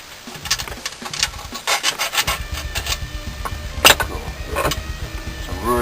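A hand file shapes a custom steel harpoon knife blade clamped in a vise, making repeated close rasping strokes in an uneven rhythm, with one sharper scrape near the middle.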